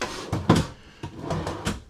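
Drawers in a 2027 KZ Durango Gold 384MSQ luxury RV open and close in a quick series of several soft wooden thumps and slides, close by with nothing else in between.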